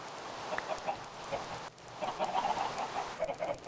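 Chickens cluck in the Minecraft video game, several birds overlapping in quick, uneven bursts, quiet and a little distant over a faint background hiss.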